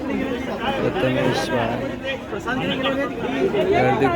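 Dense crowd chatter and babble fill the air at a Ganesh idol arrival procession, a steady, close hubbub of many overlapping voices with no pauses.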